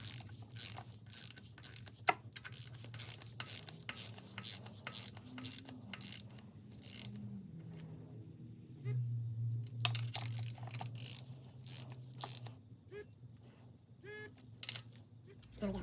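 Repeated ratcheting clicks of a torque wrench tightening oil pan bolts on a Subaru EJ25 engine, close and steady in short bursts, with a low hum underneath and brief pauses between bolts.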